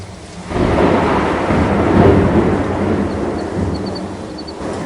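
Thunder rumbles low and heavy over steady rain, a loud storm swelling and then easing slightly.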